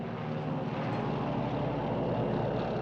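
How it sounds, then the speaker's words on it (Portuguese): A low-flying airplane passes overhead over the Burmese jungle during the Pacific War, a loud, steady droning engine roar that fills the whole stretch without other sounds. "Um avião sobrevoa bem baixo, mas não está lançando bombas."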